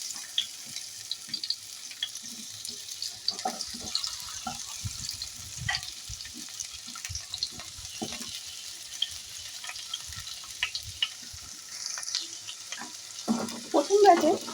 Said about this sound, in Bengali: কড়াইতে তেলটা গরম হয়ে গেছে, এবার ঢ্যাঁড়সগুলোকে সব ভেজে নিচ্ছি।